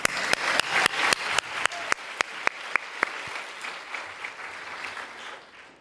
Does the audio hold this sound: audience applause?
yes